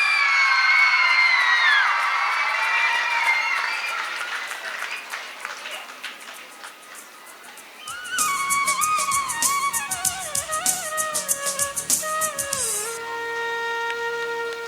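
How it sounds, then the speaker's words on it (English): Audience at a school education event applauds loudly, with clapping and cheering from many people, including children's shouts and whoops; partway through, a synthesized musical fanfare rises over the continuing applause. "Give Mrs. Sumitra a huge round of applause."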